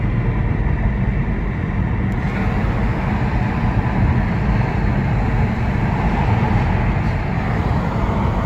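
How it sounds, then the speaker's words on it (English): A train rumbles past overhead near Roanoke, a loud, steady low roar filling the whole stretch with no voices. "Here's a train passing overhead."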